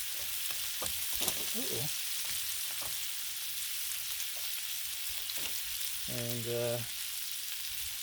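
Bacon frying on a Blackstone griddle turned up high gives a loud, steady sizzle with occasional pops and spatula scrapes, while a person briefly says a word or two over it.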